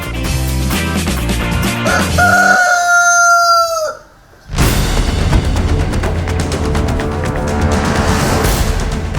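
A rooster crows loudly nearby, its call rising and then cut off, followed by a burst of clucking and farmyard commotion.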